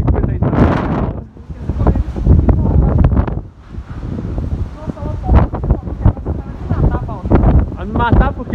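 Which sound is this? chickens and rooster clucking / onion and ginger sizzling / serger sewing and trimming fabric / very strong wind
very strong wind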